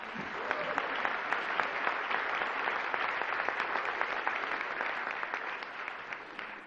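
A conference audience applauds a speech on TRIO education programs, steady dense clapping from a large crowd sustained throughout without a break.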